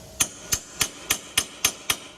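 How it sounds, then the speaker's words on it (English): A wrench used as a hammer taps on a Mustang GT's suspension during a strut, shock and sway bar end link change, seven sharp metallic strikes in a steady, evenly spaced rhythm, close and alone. "Give her a little tap with my wrench."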